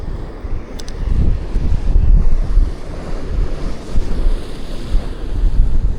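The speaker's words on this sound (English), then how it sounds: "waves भी काफ़ी rough है यहाँ भी, विंड चल रहा है" Rough surf crashing continuously on the coast at Guhagar, India, with heavy wind buffeting the microphone while fishing, loud and close, no voices.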